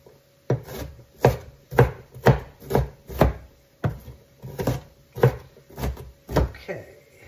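A knife chopping vegetables for a sausage, pepper and onion pizza, with about ten firm, evenly spaced thuds on a cutting board, each sharp and close, in a steady rhythm.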